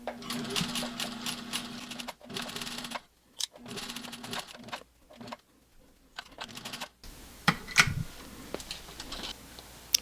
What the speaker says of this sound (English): I backstitch a little bit to make sure it's secure